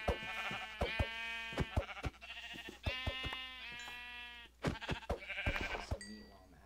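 Sheep in Minecraft bleat in repeated short, bright calls, several distinct bleats spaced irregularly over a few seconds with sharp clicks of game actions between them, close and clear.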